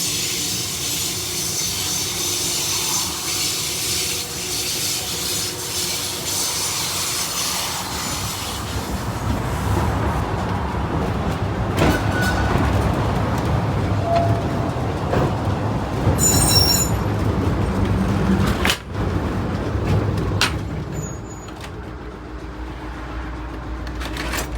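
A tram at the Sydney Tramway Museum rolls along its rails with a rumbling hum, wheels squealing in bursts partway through and occasional clacks over joints, loud and continuous.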